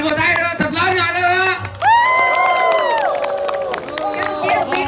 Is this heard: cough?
no